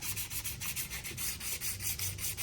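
A 1969 Mercury Cougar XR7 valve cover is sanded by hand with a wood block, producing quick, even rasping strokes in a steady back-and-forth rhythm, close and continuous with no voices.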